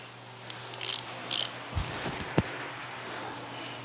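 Ratchet wrench loosening bolts under a 1967 Firebird, with quick bursts of clicking pawl ratcheting followed by a couple of dull metallic knocks, close and moderately loud in a garage.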